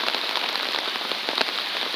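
Rain falls steadily on a Seoul street during cherry blossom season, a dense close patter of drops striking surfaces, with no voices.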